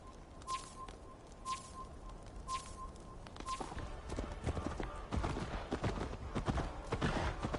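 Horse hooves pounding in Assassin's Creed Valhalla, starting with scattered clops and growing into a steady, louder gallop, with high repeated chirps and in-game voices mixed in.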